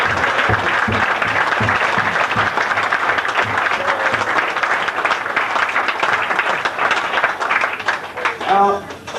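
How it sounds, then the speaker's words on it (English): A bowling club audience gives a long, loud round of applause, steady dense clapping lasting several seconds before a voice starts speaking at the end. "give them all a good round of applause"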